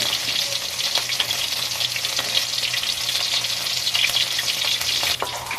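Shrimp fritters (tortang alamang) frying in hot oil, a loud, dense, continuous crackling sizzle with a few light stirring clicks, close up and without voices.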